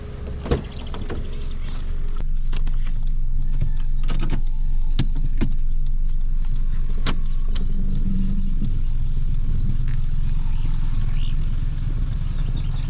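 Sounds of getting into a car, with power windows moving: a few soft knocks and thumps at first, then a steady loud rumble with scattered clicks and bumps, close by and without talk.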